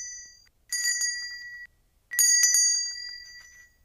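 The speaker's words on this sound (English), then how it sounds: "Now he'd learned how to ring the bell, Andy wanted his friends to hear it." A small bell rings twice in bright, ringing bursts, the second with a few quick repeated strikes, each tone lingering and fading in otherwise quiet surroundings.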